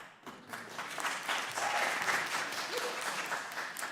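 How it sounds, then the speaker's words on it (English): Audience applause at a congressional hearing: steady clapping from a room full of people that rises after a brief start and continues for several seconds, fairly loud and close, with no clear talk over it. "The audience will please refrain from applause"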